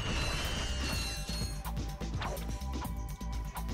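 Bomb glove explosions in the Ratchet and Clank video game arrive as a run of rhythmic thuds and crashes, with mechanical clanking under steady game noise and no speech.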